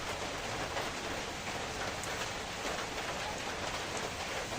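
Steady rain falls on a surface as an even, constant hiss with soft droplet texture, close and moderately loud, with no voices over it.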